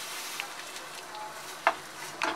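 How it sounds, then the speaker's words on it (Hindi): Sewai vermicelli frying in ghee makes a soft, quiet sizzle, with a few faint scraping clicks of stirring. "हम अपनी जो सेवैयाँ हैं इसे हल्का सा भून लेंगे।"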